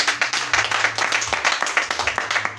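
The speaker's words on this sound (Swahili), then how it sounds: "Pigia Yesu makofi mazuri." A church congregation at a Friday night vigil claps together in a fast, even rhythm, the claps loud and close and continuing throughout.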